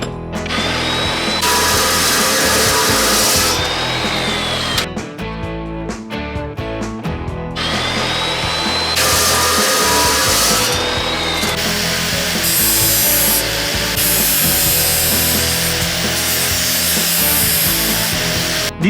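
A power saw cuts through pieces of steel angle iron from a trailer hitch, loud and grinding, in several long bursts with high ringing whines and a brief uneven break between cuts.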